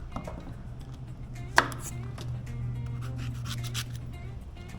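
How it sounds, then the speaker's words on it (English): Garlic is smashed and chopped with a knife on a board in a home kitchen: one sharp thud is followed by scattered light knocks and scraping over a low steady hum. "Smash your garlic."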